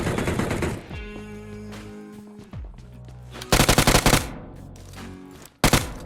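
Automatic gunfire rips through a BGMI (PUBG Mobile) match in loud rapid bursts, with a long volley near the middle and a short sharp burst near the end, between quieter in-game sounds.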